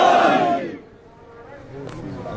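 At a Muharram gathering in Zadibal, a large crowd answers with a loud, massed shouted chant of a religious slogan. The roar is strongest at the start, then drops to quieter crowd murmur.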